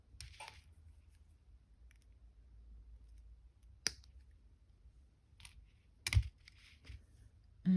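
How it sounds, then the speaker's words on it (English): Wire is cut off a wire-wrapped beaded pendant, giving a few sharp, close snips and clicks over a quiet room hum, with no talk. "now I'm going to cut that off."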